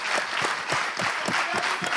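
A studio audience on a French TV talk show applauds to welcome a guest, a dense, steady round of clapping filling the whole short stretch with a few crowd murmurs.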